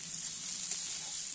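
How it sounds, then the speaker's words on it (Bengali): Ginger and cumin paste frying in a pan, a steady close hiss of sizzling oil holding level and unbroken throughout, with no voices. "আদা জিরাটা পেস্ট করাটা একটুখানি ভেজে নেবো"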